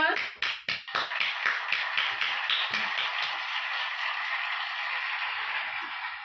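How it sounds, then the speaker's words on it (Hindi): An audience gives a round of applause: a burst of sharp, dense claps up front that thins into scattered taps and fades after a few seconds, fairly quiet overall. "बबन सरांसाठी सर्वांनी जोरदार क्लॅपिंग करायची आहे"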